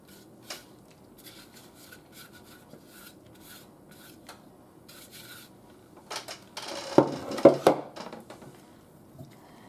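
Cheese cracker dough being scraped off blades: a long stretch of faint, scattered rasping, then a few louder, close scraping bursts near the end.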